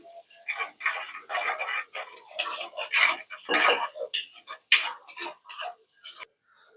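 Mustard seeds, chopped shallots and curry leaves being stirred in a clay pot for beef curry, with a metal spoon clinking and scraping in short irregular bursts, near and moderately loud, no talking.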